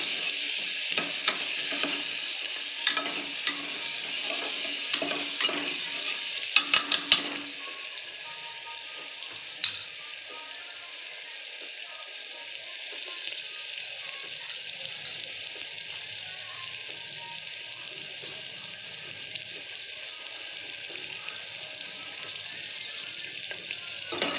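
Onion frying in a pan with turmeric, a steady bright sizzle close by with a few stirring scrapes early on, then an even continuous hiss.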